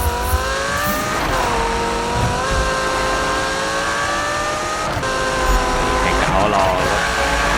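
Nissan 240Z drift car in Need for Speed 2015 roaring continuously with engine pitch rising and falling through slides, tires squealing at moments, and someone talking over the loud game audio.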